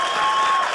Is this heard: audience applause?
yes